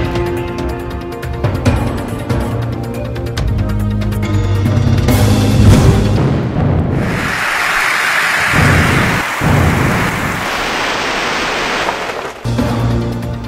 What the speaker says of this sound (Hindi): पंजाब के कई शहरों में मूसलाधार बारिश